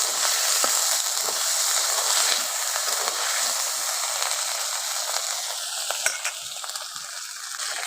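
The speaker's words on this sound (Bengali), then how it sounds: "আদা রসুন বাটাটা টমেটোর সঙ্গে একটু ভেজে নিচ্ছি।" Ginger garlic paste frying with tomato in a pan for a low-oil chicken dish, a steady loud sizzle and hiss that carries on without a break.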